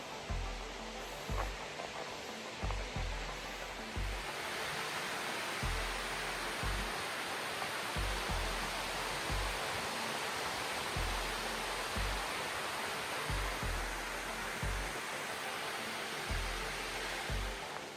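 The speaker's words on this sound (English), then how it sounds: "you can probably hear that waterfall now." A waterfall beside a walking trail pours in a steady, broad rushing hiss, with footsteps crunching rhythmically and close by throughout.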